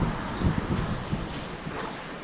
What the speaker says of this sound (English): The wind's blowing